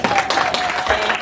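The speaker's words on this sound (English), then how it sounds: "Give them a hand clap" A short burst of hand clapping from an audience at a convention in Boston, loud and close, with a voice speaking over it.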